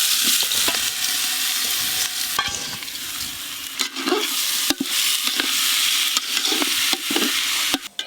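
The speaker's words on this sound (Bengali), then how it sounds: "ঘি দিয়ে চাল আর মুগের ডাল খুব ভালো করে ভেজে নিয়েছি" Rice and moong dal stir-fried in ghee in a pan for khichuri: steady scraping stirring strokes over a continuous close sizzle, with no talking.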